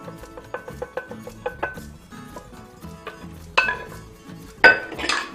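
Banana bread batter is mixed in a bowl, a utensil tapping and clinking against the rim in a quick run of light knocks, then a pause and a few sharper, louder clatters near the end.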